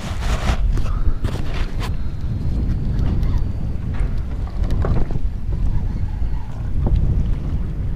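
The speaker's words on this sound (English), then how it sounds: "It's windy as hell" Strong wind buffets a microphone on a fishing boat inshore near St. Augustine, Florida, a loud, constant roaring rumble with gusty bursts and occasional knocks throughout.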